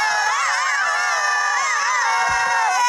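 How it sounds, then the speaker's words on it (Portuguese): Several children shout together in a sustained, loud, wavering cry during a gymnastics class, filling the whole moment with voices rising and falling in pitch. "Não se esqueçam do grito."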